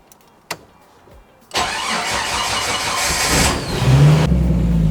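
A Jeep fitted with an NP231 transfer case and slip yoke eliminator starts up nearby. After a short click and a pause, the starter cranks and the engine catches, settling into a loud idle with a slight rev near the end.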